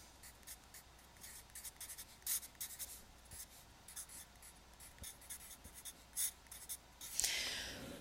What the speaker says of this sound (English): I'm going to write it again, and then I'm going to fill it in.